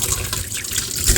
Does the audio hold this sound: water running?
yes